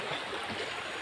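A rocky forest stream flows in a steady, full rush of water, close and continuous with no breaks and no talking.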